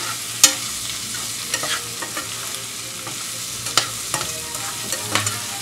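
Scallions, green onions, mushrooms and bell peppers stir-fry in a wok for a sweet and sour chicken dish, with a steady sizzle broken by sharp scraping strokes of the spatula at irregular intervals.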